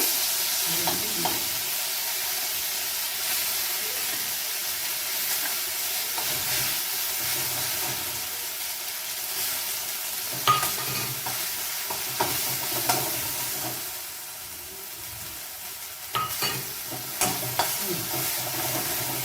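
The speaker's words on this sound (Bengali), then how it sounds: "নাড়তে থাকবো, সিমে নাড়বো" Kharkol leaf paste frying in a pan, stirred steadily, with a continuous close sizzle and hiss broken by scattered scraping strokes of the spatula, no voices.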